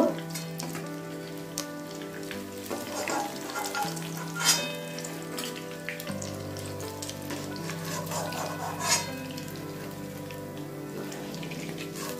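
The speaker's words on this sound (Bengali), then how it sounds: "আমার পুরিগুলো ভাজা হয়ে গেছে" Mung dal puli pitha sizzling steadily as it deep-fries in hot oil, a continuous crackling hiss with faint spoon clinks and no talk over it.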